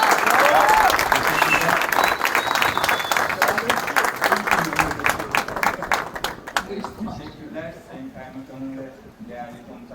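Audience at a yacht race ceremony claps in a sustained round of applause that starts loud and gradually thins and fades, with a speaker's voice coming in over the tail end.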